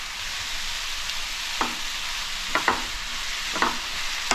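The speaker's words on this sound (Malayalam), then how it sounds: "നമുക്ക് നല്ലപോലെ ഒന്ന് ഇളക്കി കൊടുക്കാം" Steady oil sizzle with a few sharp spoon scrapes against the pan as ginger and garlic are stirred, salted, no voices.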